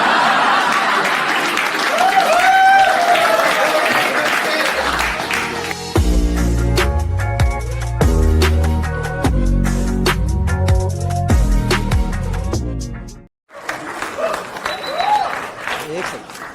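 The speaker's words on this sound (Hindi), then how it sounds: "क्या करो इन तालियों का?" Comedy show audience applause swells into loud, dense clapping in the middle, followed by a sudden cutoff. Someone talks and the crowd chuckles before and after.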